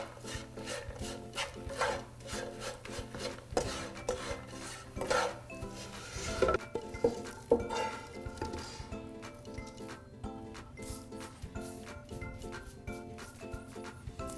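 Pecans being stirred in a sugar coating in a pan, with repeated scraping and rasping of the spoon against the pan bottom, near and fairly steady, and occasional clinks.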